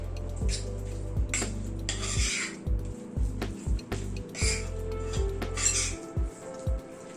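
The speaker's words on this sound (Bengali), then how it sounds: "মশলাটাকে ভালো মতো মিশিয়ে নিলাম" A spoon clinks and scrapes against a bowl as spice masala is mixed for a chicken leg roast, producing sharp repeated taps and stirring scrapes over a steady low hum.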